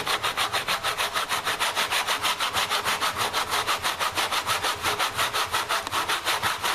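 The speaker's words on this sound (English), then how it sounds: "move the saw backwards and forwards. And cut into" Tenon saw guided in a jig cutting through a wooden tangram piece, a steady rhythm of rasping back-and-forth strokes, close and evenly paced without pause.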